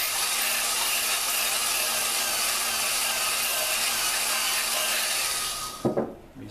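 A valve on a Dodge 4.7 engine is lapped by rocking a socket back and forth, giving a steady, close gritty rubbing and grinding that runs continuously before stopping with a few clunks.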